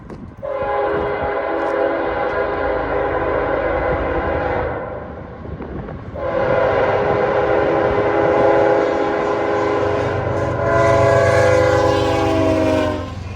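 A freight train passes close by in Greenville, South Carolina, loud horn blasts sounding in two long stretches over rumbling wheels and engine noise.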